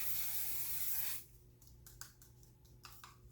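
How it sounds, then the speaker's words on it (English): One Size Until Dawn mattifying waterproof setting spray gives a loud, steady aerosol hiss lasting about a second, then cuts off, leaving quiet room tone with a few faint rustles and small handling sounds. "The One Size Until Dawn mattifying waterproof setting spray."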